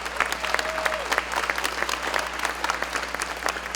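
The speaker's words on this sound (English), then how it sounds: "so if you could give them a big round of applause" Sustained applause from a crowd at a summer camp gathering, honouring camp buddies and staff, dense and steady throughout with no voices rising above it.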